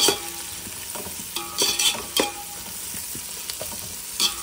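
Mint leaves fry and get stirred in a hot pan while cooking omelette biryani, a steady sizzle broken by scraping stirs and a few louder sputtering bursts.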